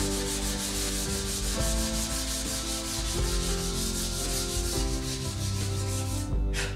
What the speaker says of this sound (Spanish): Y vamos a lijar todo el contorno de nuestro cuadro.